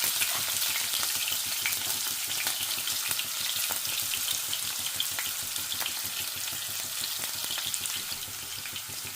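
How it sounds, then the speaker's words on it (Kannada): Chopped onions and green chillies sizzle steadily in hot oil in a pan, a dense continuous crackle with occasional stirring scrapes, close and even throughout with no talking. "ಈರುಳ್ಳಿದು ಹಸಿರು ಮೆಣಸಿನ್ಕಾಯ್ದು ಹಸಿ ಸ್ಮೆಲ್ ಹೋಗೋವರೆಗೂ ಫ್ರೈ ಮಾಡಬೇಕು"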